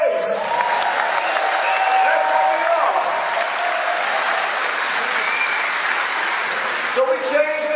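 Sustained audience applause at a corporate event, loud and full, with a few voices and cheers rising over the clapping before it thins near the end.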